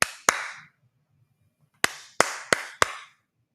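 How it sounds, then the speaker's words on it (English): Sharp hand claps ring out close and loud: two quick claps, a short pause, then four more in an uneven burst, each with a brief ringing tail. "Y'all hear that clapping?"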